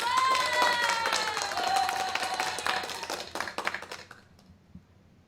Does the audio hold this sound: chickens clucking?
no